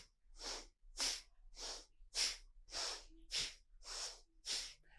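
Strong, forceful nasal breaths during a yoga twist, eight sharp exhalations and inhalations in an even, steady rhythm, close and clear with no talking.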